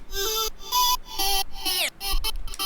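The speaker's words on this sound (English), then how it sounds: "here if I use this tape stop" Bright electronic music plays, then a tape stop effect slides its pitch sharply downward as the sound slows and drops out for a moment before the music resumes.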